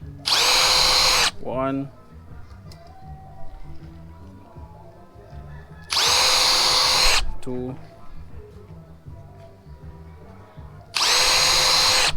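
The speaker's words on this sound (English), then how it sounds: "I just use the drill with a very small bit" Power drill with a very small bit boring holes in a wooden hive frame, three short high whines spaced several seconds apart, close, with a voice counting between them.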